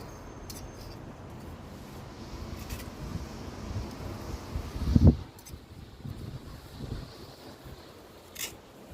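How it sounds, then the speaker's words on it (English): Strong wind buffets the microphone outdoors by a belfry under repair, a steady low rumble with one hard gust near the middle and smaller gusts after; no one speaks. "Very windy round the corner today."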